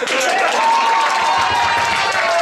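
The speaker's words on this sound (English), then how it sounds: "Applaud, because that's a good" Audience at an improv comedy show applauding and cheering, a dense, loud wash of clapping with a voice or whistle-like tone riding above it.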